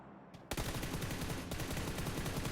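Sustained automatic gunfire in the PUBG Lite shooter game, a dense rapid burst that cuts in abruptly after a brief quiet moment and keeps rattling loudly without pause to the end, no talk over it.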